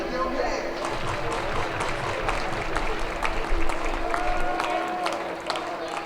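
Baseball crowd at a college game between Florida and Miami, a steady roar of cheering and scattered clapping swelling for a strikeout, with a sustained whistle or horn tone running underneath.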